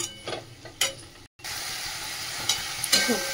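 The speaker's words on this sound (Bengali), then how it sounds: "দিয়ে ভালো করে মশলাটা কষাবো" Ground spices sauté in oil in a pan, making a soft sizzle with intermittent spatula scrapes and clinks against the metal, close and fairly quiet, with a short silent gap.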